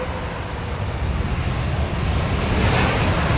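An airliner touches down heavily on its undercarriage during planespotting, a broad continuous engine and airframe roar that builds slightly in loudness over a few seconds, heard alone without voices.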